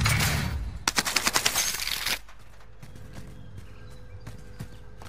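Gunfire in the Warzone video game crackles in a quick burst of several sharp rapid shots, fairly faint against quiet game ambience, then dies away into low background hum.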